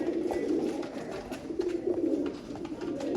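Sialkoti pigeons in a flock of about twenty-six coo in a continuous low, throaty murmur, several birds overlapping nearby at a moderate, steady level without speech.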